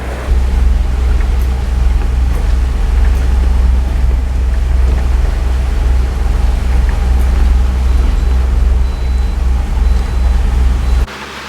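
A steady low engine drone runs throughout from a sailboat motoring along, with wind and water noise and no talking, cutting off abruptly at the end.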